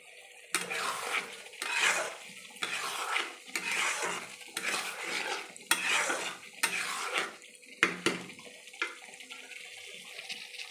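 Chilli chicken being stirred in a pan: a rhythmic series of scraping, clattering spatula strokes against the metal, roughly one every second, close and fairly loud over a faint sizzle.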